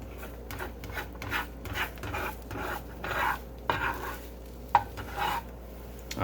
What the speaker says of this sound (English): All right, and that's a scrambled egg.